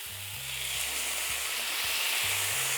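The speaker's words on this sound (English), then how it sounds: "we lower the heat slightly to just medium-high, and we add the soy sauce" Soy sauce hits a pan of stir-fried mixed peppers over medium-high heat, a continuous close, hissing sizzle that stays even and fairly loud for the whole stretch, with faint music low beneath.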